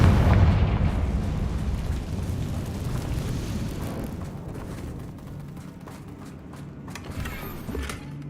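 A fiery Confringo spell explodes in Hogwarts Legacy. A heavy boom opens, then a long rumbling, crackling decay fades over several seconds, with no one speaking.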